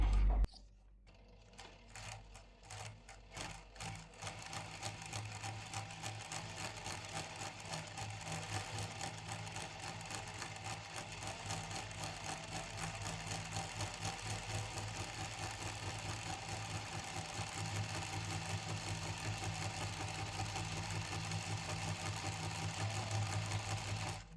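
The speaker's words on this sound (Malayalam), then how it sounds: "ഇതാ ഞാൻ നൂല് ഫില്ല് ചെയ്യുന്നത് നിങ്ങളെ കാണിക്കാൻ പോവുകയാണേ" Sewing machine winding thread onto the bobbin: a steady, continuous motor whir with fast mechanical rattle, close and even for over twenty seconds after a brief start-up.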